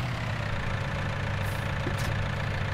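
A tractor engine idles in the farming game Farming Simulator 19, a steady low rumble that holds at an even level from start to finish with no talk over it.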